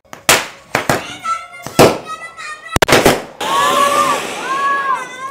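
A string of Murga Chhap brand firecrackers set off for Diwali pops in sharp, irregular loud bangs, followed by excited voices shouting over crackling.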